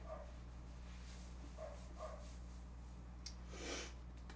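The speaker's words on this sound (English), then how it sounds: "My dog's fucking bark is getting deeper and deeper." A large dog gives a few deep, muffled barks and woofs, spaced apart and fairly faint over a steady low indoor hum.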